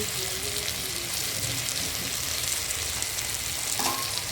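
Turmeric and salt sizzle in a pan as fish curry is sautéed and stirred, a steady dense frying hiss running throughout with faint scraping, heard alone without voices.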